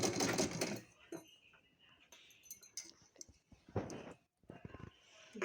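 A sewing machine stitches the neckline of a party-wear gown made of plain net fabric, running in short loud bursts with quieter pauses and handling noises between them.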